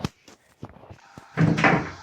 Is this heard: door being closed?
yes